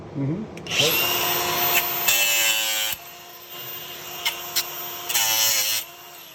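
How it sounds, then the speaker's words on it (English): Power tool grinding away wood at a rotted rafter tail during a fascia and soffit repair, several loud bursts of whining grind separated by brief pauses, with faint talk underneath. "I'm gonna have to grind that off so that I can get the rafter tail right alongside it"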